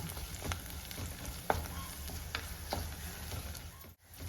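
Onions fry in a pan for a Palakkad-style chilli tamarind curry. A quiet, steady sizzle is broken by a few sharp spatula scrapes and stirs, heard close with no speech.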